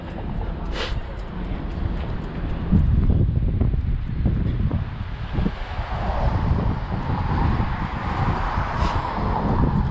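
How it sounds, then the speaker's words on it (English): Gusty wind roars and buffets against the microphone outdoors, a continuous low rumble swelling and easing over several seconds. "windy, which is nice because it's been really, really hot here"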